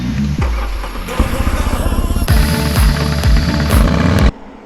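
KTM 390 Adventure single-cylinder motorcycle on a demo ride, its engine pulsing loudly with a rapid thumping beat that rises and falls through revs before cutting off near the end.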